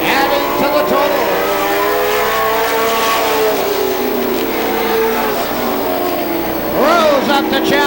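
A pack of pro stock race cars roars around a night-race track, with loud, sustained engine noise that surges and sweeps in pitch as cars pass, and a commentator talks over it.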